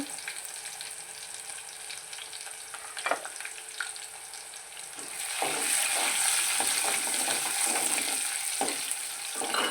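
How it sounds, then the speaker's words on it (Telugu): Onions, cumin and mustard seeds sizzle in hot oil as a tempering for bottle gourd dal, a moderate crackling fry with spoon taps that swells louder and denser partway through as stirring continues. "తిరగమాతకి ఉల్లిపాయలు జీలకర్ర ఆవాలు"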